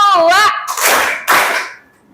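Children in a primary school classroom clap twice during a Simon Says game, two sharp, loud group claps following a spoken cue, each ringing out briefly before fading.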